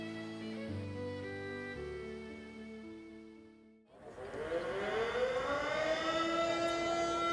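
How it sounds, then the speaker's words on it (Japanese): A civil defense style siren wails at the Nagaoka fireworks launch site, first holding steady layered tones, dipping briefly, then rising again loud and sustained across the open venue. "小三尺玉が打ち上がるときにサイレンがね会場で、 鳴るわけなんですが"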